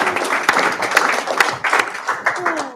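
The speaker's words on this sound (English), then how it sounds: "I'd like to invite the panelists to applaud the panelists and thank them for" A seated audience at a Massachusetts citizens' review panel claps for the panelists, a brief patter of scattered hand claps with no talking.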